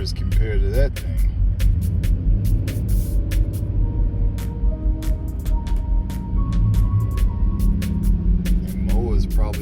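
A large truck's engine idles with a loud low rumble after a struggling start, with clicks and crackles over the top and people talking nearby.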